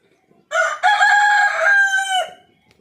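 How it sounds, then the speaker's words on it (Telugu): A rooster crows once in a village in the early morning, a single loud, close, drawn-out call of about two seconds that rises and then trails off against near silence. "4 గంటల నుంచి అయితే ఒక కోడి మాత్రం ఖచ్చితంగా లేపుతుంది, గంట గంటకి లేపుతుంది"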